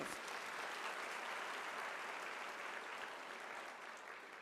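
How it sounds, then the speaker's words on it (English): Broad, sustained applause from a large audience at a university graduation ceremony, even and continuous, heard from a distance and slowly tapering toward the end. "I think you need to give them a round of applause"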